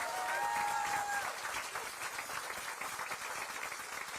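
Audience applause for Sundance-supported artists at a community event in Boulder, Colorado: a dense, steady wash of clapping from a crowd, fairly close and continuous, with a bit of cheering mixed in.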